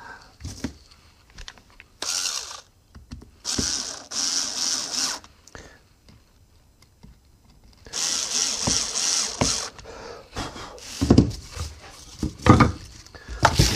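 A power tool driving a part back into place on a Maserati long pulley half: several whirring bursts of a drill or driver, separated by pauses, with metallic clicks and handling knocks, close and fairly loud.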